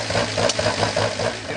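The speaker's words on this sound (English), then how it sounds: "The engine seems to be running okay" A rally car's engine idles with a steady, slightly uneven throb while a person talks over it close by.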